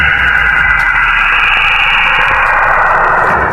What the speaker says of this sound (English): This is the sound of Saturn.